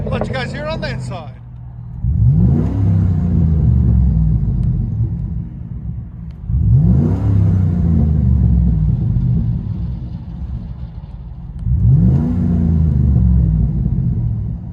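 Inside the cab of a 2009 GMC Sierra 5.3L V8 with a Vibrant bottle resonator, three deep, muffled revs swell and fade back to a steady low rumble; someone speaks briefly at the start.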